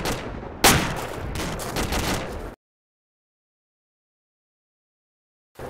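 Dense gunfire in the video game ArmA 2 crackles in rapid bursts after a sharp opening bang, then cuts off abruptly into silence before a brief return at the end.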